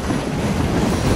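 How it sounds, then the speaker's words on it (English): A train rolls along in Assassin's Creed Syndicate, a loud continuous rumble of wheels and carriages with a dense rattling texture that fills the whole moment without pause. "Stop this train."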